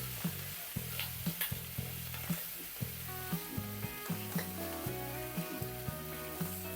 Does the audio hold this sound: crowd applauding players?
no